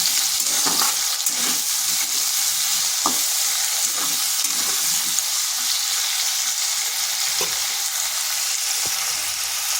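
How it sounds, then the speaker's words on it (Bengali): Potato pieces fry lightly in a pan for a vegetarian cabbage and soybean dish, giving a steady, loud sizzle with occasional scraping stirs and faint clinks. "এরপর আলুটাকে হালকা ভাজা ভাজা করে নেব।"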